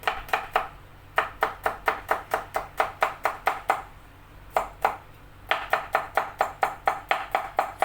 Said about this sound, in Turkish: İki diş sarımsağımı da Minik minik doğrayın.